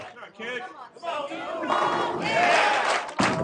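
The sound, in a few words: crowd cheering and applauding at bowling tournament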